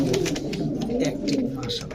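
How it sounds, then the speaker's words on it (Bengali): Pigeons coo in low, rolling murmurs close by at a pigeon market, with people talking over them throughout. "এটা হচ্ছে রাজশাহী গোল্লা কবুতর"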